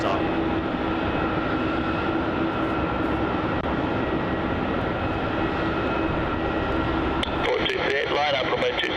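A Jetstar Boeing 787 Dreamliner rolls at Melbourne Airport with a loud, steady jet roar and a whining engine tone that holds throughout, and voices sound faintly underneath.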